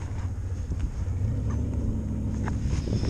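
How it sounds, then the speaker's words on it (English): A turbocharged LS-swapped Ford Ranger in four-wheel drive on studded ice drag tires, its engine a deep, steady rumble held close and loud throughout, with wind noise but no clear launch surge. "he's going to try to do a 4-wheel drive launch"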